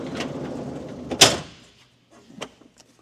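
Strut-assisted coach door on a 2003 National Islander motorhome on a Country Coach chassis, one sharp closing thud after a soft rustle, followed by a few faint clicks.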